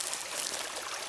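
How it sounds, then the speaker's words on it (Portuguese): Mineral water spring rushing strongly down over rock in a natural stream, a steady, dense, close hiss of flowing water with no voices. "E a água aqui tá descendo com força."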